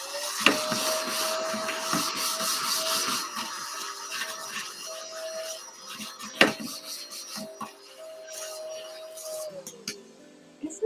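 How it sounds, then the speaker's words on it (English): A small desktop vacuum cleaner's motor whirs steadily for several seconds with a faint rising-falling hum, along with rubbing and scraping sounds and an occasional sharp click nearby. "I'm going to use the cutest little desktop vacuum that there ever was"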